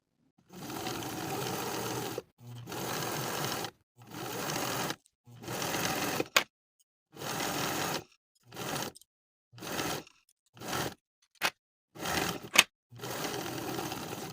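A sewing machine top-stitches around the neckband of a sweatshirt in about nine separate runs, each a steady close whirring hum of one to two seconds, with short quiet gaps between runs and no talking.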